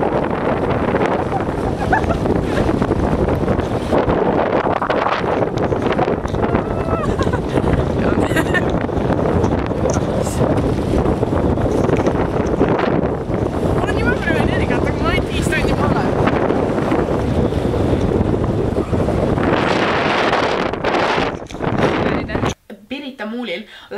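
Strong wind buffets the microphone at the seaside, a loud continuous roaring rumble that fills the whole stretch, with voices talking underneath before it cuts out abruptly near the end.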